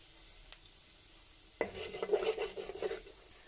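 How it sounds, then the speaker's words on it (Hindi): Cumin seeds go into about four spoonfuls of hot cooking oil and set off a sudden bright sizzle halfway through, crackling and spitting for the remaining couple of seconds after near silence. "तो अब उसमें थोड़ा सा मैं ज़ीरा ऐड करूँगी"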